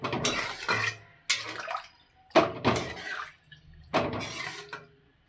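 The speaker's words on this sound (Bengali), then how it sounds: "এবার এর মধ্যে দিয়ে দেবো একটু গরম জল" Hot water poured into a pot of fish curry with potatoes, several splashy gushes of a few seconds each, close and fairly loud, separated by short silences.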